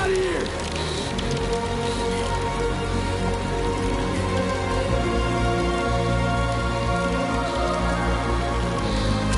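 Timefall rain pours in the video game Death Stranding 2, a dense unbroken hiss of falling drops under a low rumble and game music, steady and loud throughout.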